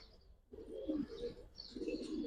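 High-flying Giribaz pigeons cooing softly up close in a loft, a few low murmuring coos in quick succession with faint chirps in the background.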